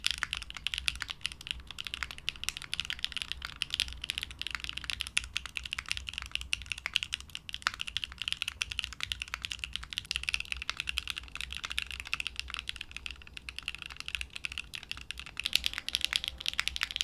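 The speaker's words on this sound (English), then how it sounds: "the sound profile that HMX switches tend to give off is just a clackier, lighter sound profile" A mechanical keyboard with HMX switches typed on steadily, giving a rapid stream of light, crisp, clacky keystrokes at a fairly quiet level with no talking.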